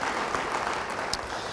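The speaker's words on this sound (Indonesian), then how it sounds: "Yang percaya beri tepuk tangan bagi dia." A church congregation claps together in a brief, dense burst of applause during a sermon, steady and moderately loud.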